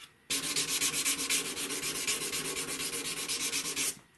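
320 grit sandpaper rubbing over a German silver part for a flintlock pistol, making a steady run of quick rhythmic back-and-forth strokes, loud and close, with no voices.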